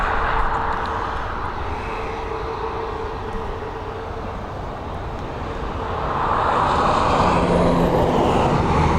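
Boeing 787 Dreamliner jet on the runway at Dublin Airport, a broad distant engine roar that swells louder toward the end, continuous and without speech.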